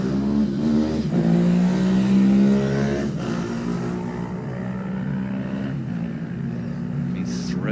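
A Ducati racing motorcycle at the Classic TT lightweight race accelerates away down Glen Crutchley Road, a steady throaty engine drone with a rising pitch sweep, fairly close and continuous.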